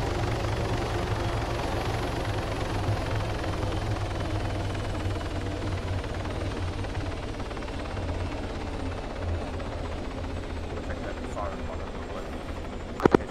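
Helicopter engine and rotor running steadily in the ARMA video game, a constant loud drone with deep low-frequency rumble throughout, with voices heard faintly over it.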